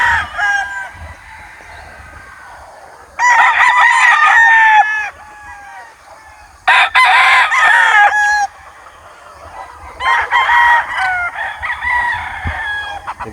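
Roosters crow in loud repeated bouts, three long cock-a-doodle-doo calls close by with clucking between them, outdoors on a farm where chickens are being moved.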